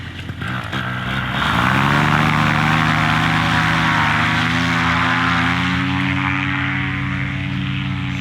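A paramotor engine on an insanely durable paramotor roars up from idle to full throttle during a foot drag takeoff, then holds a loud, steady, buzzing drone close by with a slight wavering pitch.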